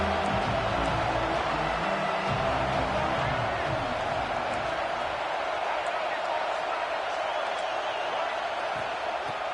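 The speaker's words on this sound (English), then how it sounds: "This crowd bringing the energy and noise early" A stadium crowd at a college football game in NCAA 26 keeps up a constant roar of cheering beneath a commentator's voice. The noise is loud and sustained, easing a little toward the end.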